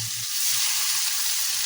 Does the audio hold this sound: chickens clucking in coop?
no